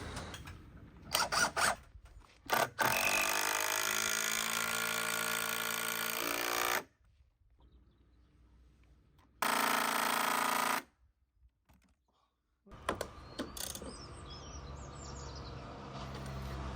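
A hammer drill boring holes with a small bit, two loud sustained bursts separated by a quiet gap, close up, with rattling handling noise before and after.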